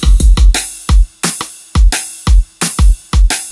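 A punchy drum pattern from a track made in Reason 10, with deep booming kicks and snappy hits in a tight, driving groove, loud and close, with no talking.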